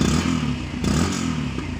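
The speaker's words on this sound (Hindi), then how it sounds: "और यहाँ से आप इसके एग्जॉस्ट के साउंड को भी चेकआउट कर सकते हैं" Exhaust note of a 2022 Yamaha FZ-S FI Deluxe BS6 motorcycle, heard up close as a continuous low, throbbing rumble with a slight rattle, holding steady with small surges and no voices.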